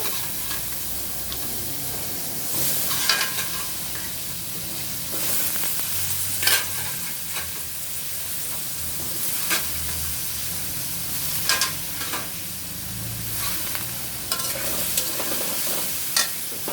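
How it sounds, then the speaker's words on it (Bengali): Shing fish and vegetables stirred in a hot pan over a cumin tempering: a steady sizzle and hiss with scrapes and clatters from the stirring, close up, with no one talking. "শিং মাছ রান্নার জন্য দিয়ে দিলাম জিরা ফোড়ন দিয়ে দিলাম"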